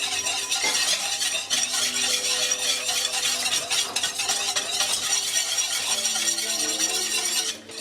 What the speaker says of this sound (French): Fouettez constamment pendant ce temps de chauffe.